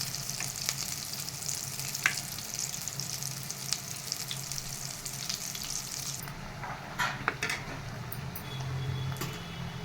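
Small potato punugulu fritters bubble and crackle in hot oil while a small spoon stirs them, steady close frying with light scraping clicks and occasional sharper pops, no voices.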